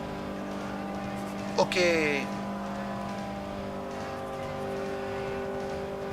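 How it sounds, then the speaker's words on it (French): Race car in the Forza Motorsport 3 video game slowing into the pit lane: a steady engine drone with a brief downward-sweeping whine as it decelerates, with a voice speaking briefly. "Donc, la voiture ralentit."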